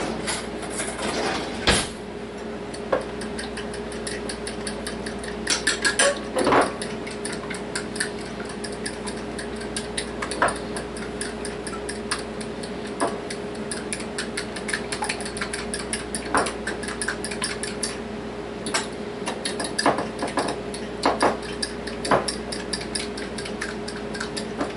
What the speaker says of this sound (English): And I'll grab a fork and mix it.